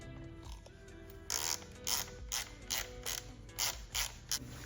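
A ratchet wrench tightens bolts on a car part, likely plastic or 3D-printed, on a Hyundai Elantra N: a run of repeated bursts of rapid clicking, close and clear, with short pauses between strokes over a steady low hum.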